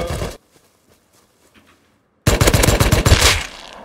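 Machine gun fire in the video game Rust, a short loud burst, a pause of near silence, then a longer rapid automatic volley.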